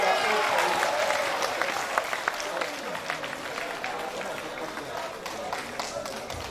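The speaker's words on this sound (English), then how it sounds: "Please, a round of applause for him." Sustained applause from a large conference audience in Nigeria, dense and steady throughout, with a voice faintly audible beneath the clapping.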